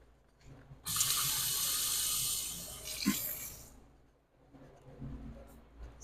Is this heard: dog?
no